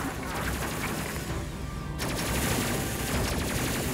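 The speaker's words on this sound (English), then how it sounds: "I love the sound of the plasma cannons. They sound sort of corny sci-fi." Plasma cannons in the video game Space Crew fire in a dense, loud, continuous rattling barrage, with a brief dip before the volley resumes at full strength.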